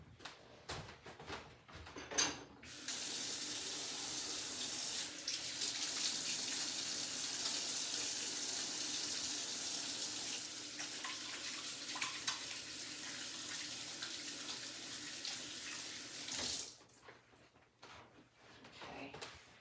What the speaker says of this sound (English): Let me wash my nasty paws again.